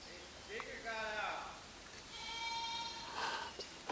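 Goats bleat on a small farm with potato-planted swales, a few wavering calls heard at moderate distance, with a person talking briefly over them.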